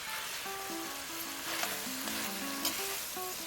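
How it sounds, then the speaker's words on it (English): Greens are stir-fried in a pan with a steady, fairly quiet sizzle, accompanied by light stirring scrapes and a few clicks of a utensil against the pan. Faint background music with a clear melody plays underneath. "stir fry until the greens get a little bit soft."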